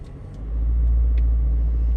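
Road traffic on a busy, congested road in Riverview, Florida, near Tampa: a steady low rumble of passing cars that swells after the first half second and holds close and loud throughout, with faint higher clicks above it.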